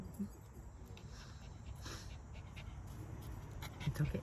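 A dog pants steadily and gives a couple of soft whimpers, close by and fairly quiet, against a low background hum.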